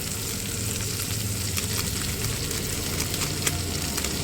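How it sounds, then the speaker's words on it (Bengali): Tomato paste and spice masala frying in hot oil in a pan for a Bengali fish curry, a dense continuous sizzle with faint stirring scrapes, close and steady, with no voices. "টমেটো পেস্ট, ভালো করে কষবো। মশলাটা যতক্ষণ তেল না ছাড়বে ততক্ষণ ধরে কষবো।"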